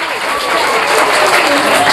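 A crowd at a school result-day prize distribution applauds loudly and steadily, with the clapping rising slightly as it goes while people talk over it.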